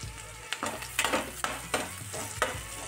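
Masala egg bhurji stir-fried in a pan, with steady sizzling and frying under repeated sharp spatula scrapes and stirs roughly every half second, close and clear with no talking.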